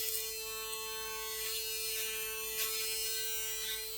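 A Panasonic ES-LT4B electric shaver runs close up with a steady motor whine, its cutters rasping along a jawline in uneven bursts, with no talking.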